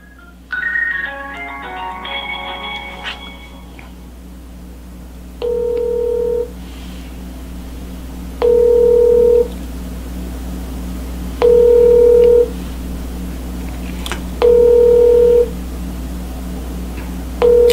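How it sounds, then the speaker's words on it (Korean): A telephone ringback tone repeats on an outgoing call placed for a live phone interview during a Korean news broadcast: five steady, mid-pitched beeps, each about a second long, at regular three-second intervals over a low hum, with no talk. "신호가 가는데"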